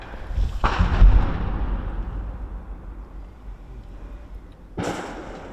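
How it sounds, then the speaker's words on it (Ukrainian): Gunfire trading back and forth outside a frontline dugout in a war zone: two sharp, loud booming shots spaced a few seconds apart, with rumbling reverberation lingering between them and no voices. "Зовні бліндажу перестрілка."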